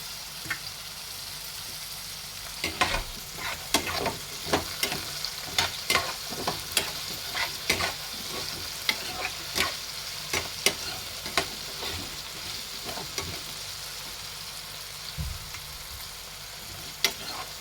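Masala simmers in a pan with added water for a paneer and potato curry, giving a steady bubbling sizzle broken by frequent sharp clicks and taps of a spoon stirring, with no voices.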